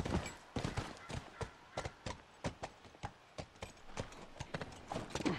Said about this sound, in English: All right, let's take the horse.